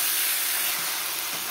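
Potato and spices fry together in a pan while being stirred, a brief, loud, even sizzle with a steady hiss.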